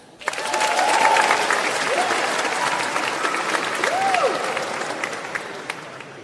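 Graduation ceremony audience bursts into loud, sustained applause with scattered whoops and cheers, holding steady for several seconds before easing slightly.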